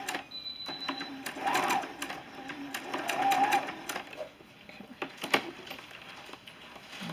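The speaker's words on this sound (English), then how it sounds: "Alright, so I have this first seam stitched" Sewing machine stitching a seam through stretchy fabric backed with stabilizer, running in short close bursts of rapid mechanical chatter with brief pauses and clicks between them, no voices over it.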